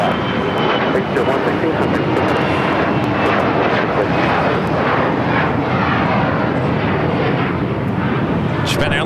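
An airliner takes off from runway 25 right at LAX, its engine roar loud, broad and steady throughout at close range, with no voices over it.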